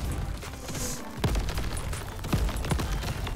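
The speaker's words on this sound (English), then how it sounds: "those things leave a big explosion" Explosions and gunfire ring out in the co-op roguelike shooter Crab Champion, a few sharp booms and bursts rising over a constant bed of game noise and music.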